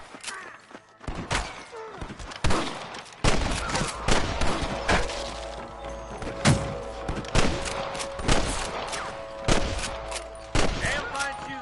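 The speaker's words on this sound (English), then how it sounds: "I can hear more gunshots." A sustained firefight in Red Dead Redemption, with dense rapid volleys of gunshots and thuds coming in repeated loud waves over most of the stretch, voices calling out over the shooting.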